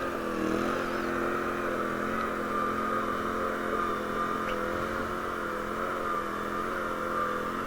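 A 2WD Legacy XL tractor engine works at an off-grid property, a steady droning hum with a rising and falling whine as the wheels spin, continuous and moderately loud with no talking.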